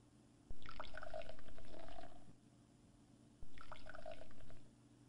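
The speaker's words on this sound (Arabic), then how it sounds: "نضع كمية من حامض الهيدروليك في أنبوب اختبار" Hydrochloric acid poured into a glass test tube during a home chemistry experiment: two short, close trickling pours over a quiet background, each lasting about one to two seconds, with a small liquid splash and trickle.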